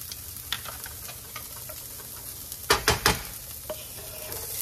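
Garlic and jalapeno fry with bacon in a pan, giving a steady close sizzle broken by a few clattering stirring scrapes near the middle.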